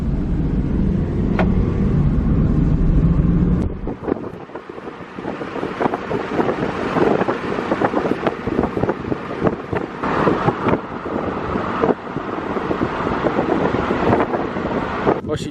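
Project car nicknamed Vert, recovering from overheating, heard from inside while driving: a loud, steady rumble of engine and road mixed with wind buffeting the microphone, shifting in tone after the first few seconds.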